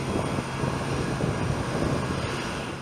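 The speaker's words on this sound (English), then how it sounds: "One of the newest and most prominent of these full-sized cargo aircraft is the Boeing 747-8F" Boeing 747-8F freighter cargo jet roars in a steady, dense broadband rumble with a high whine, loud and unbroken throughout.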